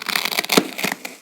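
A knife slicing through carpet down to hardwood flooring gives short scratchy, crackling tearing noises in quick bursts. The cutting sounds close and fairly quiet, with no speech.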